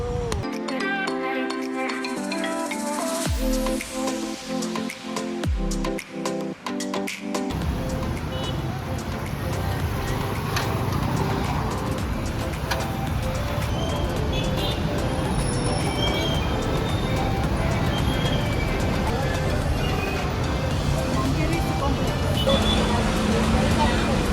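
Busy street traffic in Kampala with boda boda motorbikes, a continuous wash of engines and road rumble that takes over after some opening music and holds steady throughout.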